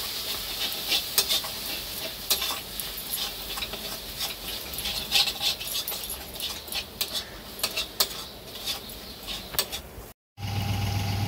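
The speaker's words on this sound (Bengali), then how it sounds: "এবার আমি ভালো করে মশলাগুলো কষে নেব যাতে কড়াইয়ের নিচে লেগে না যায়। খুব ভালো করে নাড়তে হবে।" Spices for mutton kosha are stirred and fried in a kadai, a spoon scraping and clinking against the metal in an irregular rhythm over a soft, steady sizzle, close and fairly quiet.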